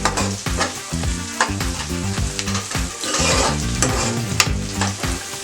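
Purslane leaves and tomato frying in oil for a curry, a steady loud sizzle with repeated scraping strokes of stirring in the pan, close up and with no talk.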